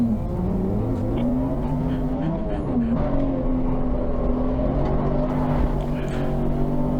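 Race cars lap Silverstone International in a 750 Motor Club Roadsports race, with a BMW M3 leading. A continuous engine drone shifts pitch as the cars go through corners, and it stays steady and moderately loud throughout.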